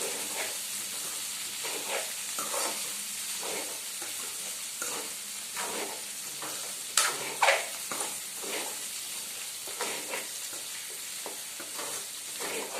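Raw plantain frying in oil in a pan, a steady loud sizzle with scraping stirs and occasional sharper crackles throughout, no talk.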